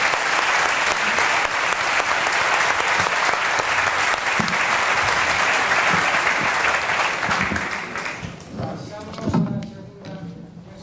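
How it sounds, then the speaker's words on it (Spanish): Audience applause fills a hall after a round-table panel on business and finance, dense and steady for about eight seconds before thinning to scattered claps and a few thuds. "nuestros ponentes y compañeros de mesa se han merecido un aplauso"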